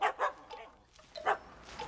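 A small dog gives a few short, sharp yips in a quick pair, a pause, then another bark, fairly close and alone with no talk over it.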